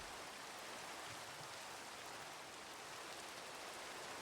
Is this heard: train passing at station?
no